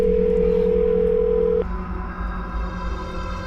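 A steady electronic phone tone hums loudly, then cuts off abruptly, leaving a low background drone.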